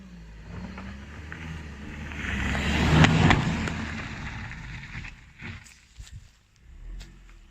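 A car drives at speed over a Blackview BV7000 Pro rugged phone, a broad rumbling roar that swells to a loud peak before fading into softer scuffs and crunches.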